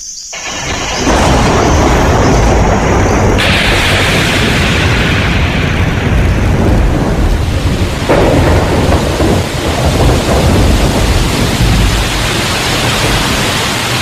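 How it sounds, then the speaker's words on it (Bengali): A loud thunderstorm with a heavy downpour: deep rolling thunder rumbles over a dense, constant hiss of rain that fills the whole stretch without any talk. "ঝড় এসে সমস্ত অরণ্যকে জাগিয়ে দিয়ে গেছে। এখন বৃষ্টি পড়ছে মুষলধারে।"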